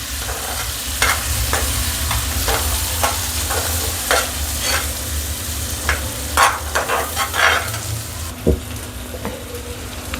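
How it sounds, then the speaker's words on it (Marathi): Ground masala frying and being stirred in hot oil for chhole, a steady close sizzle with repeated scraping stir strokes and a brief sharper clatter near the end. "आता मसाला मस्त तळून झालेला आहे"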